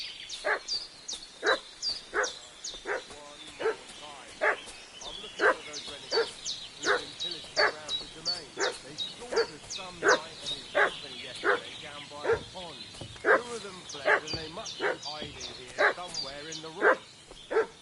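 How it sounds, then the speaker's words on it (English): Dog in the video game Kingdom Come Deliverance II barking steadily in a rhythmic series of sharp, loud yaps, with higher yips scattered over a busy background and no speech. "What's that dog making such a fuss about?"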